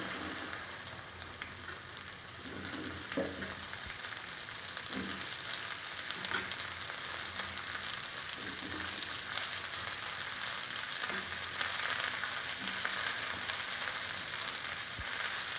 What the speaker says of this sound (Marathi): आता आपण ह्या भेंडीला चांगलं परतून घेऊ थोडं